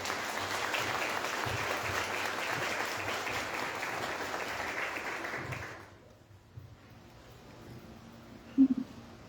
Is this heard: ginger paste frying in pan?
no